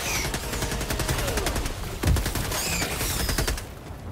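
Rapid, loud bursts of automatic machine gun fire from the video game Helldivers 2, crackling repeatedly through the whole stretch with one heavier impact near the middle, and no voices over it.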